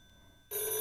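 A 1950s telephone bell starts ringing abruptly after near-silence, a loud, bright metallic jangle that holds steady for the rest of the brief moment.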